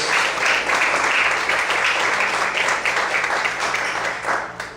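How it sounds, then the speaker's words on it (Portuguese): Church congregation applauding together, a sustained wash of many hands clapping at steady volume for several seconds. "Você pode aplaudir o Senhor nessa noite?"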